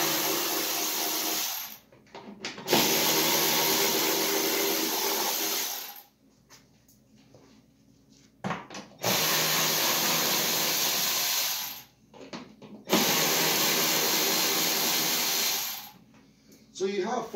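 Power drill backing out number 7 screws during a tow package install on a 2019 Chevy Traverse, in four loud whirring bursts close by with quiet pauses between them.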